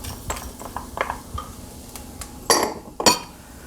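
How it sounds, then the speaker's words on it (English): Dry risotto rice poured into a pan of sautéing onions and garlic, giving light clinks and a scattered patter of grains against the pan, with two sharper, louder bursts of pouring near the end. "to that, we're going to add 1 cup of the risotto rice"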